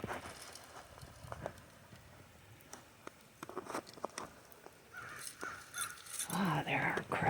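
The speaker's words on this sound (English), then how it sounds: "there are crows." Crows caw in a snowy yard near a bird feeder, scattered harsh calls at moderate distance over soft patter and footsteps, growing busier toward the end.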